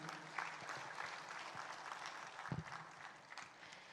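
Faint, distant audience applause at the 50th Dairy Industry Conference for the award winners: steady, dense clapping from a large hall, heard alone without speech.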